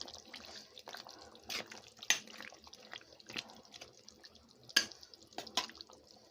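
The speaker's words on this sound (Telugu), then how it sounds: "ఉడకడం ఆల్రెడీ మొదలైపోయింది" Country chicken curry simmers in a pot on a low flame, giving faint, sparse bubbling pops and plops at irregular intervals, with no talk.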